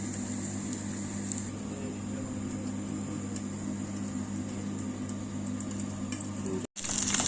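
Liver cutlets sizzle and crackle in a hot pan with a steady hiss and a low background hum, then a brief cut near the end.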